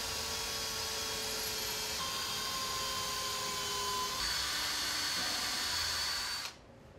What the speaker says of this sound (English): Drill holes at each mark as appropriate for the mounting hardware being used.